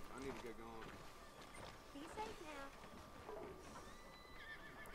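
A horse whinnies in Red Dead Redemption 2, with a few clip-clopping hooves and game ambience, while someone talks over it throughout.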